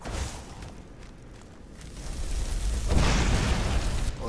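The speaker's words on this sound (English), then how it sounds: "Let's do Firebolt and put on Fire Breath." A Firebolt spell bursts in Skyrim, a dull booming blast that swells into a broad rushing roar after a rumbling lead-in, with no talk.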